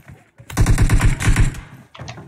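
Rapid automatic gunfire from a battle royale video game, a dense burst of evenly spaced shots lasting about a second, then a short pause and a brief second volley, loud and close with no talking.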